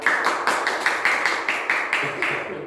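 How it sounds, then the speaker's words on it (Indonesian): A classroom group claps in unison for a student, about a dozen evenly spaced rhythmic beats, close and fairly loud, ending in a brief quiet moment. "Tepuk tangan untuk Mas Tio."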